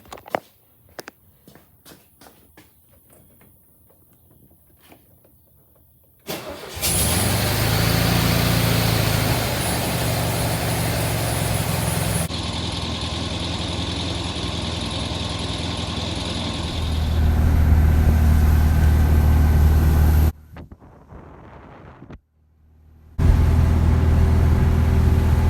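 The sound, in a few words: Sunbug engine starting hot and idling after carburetor swap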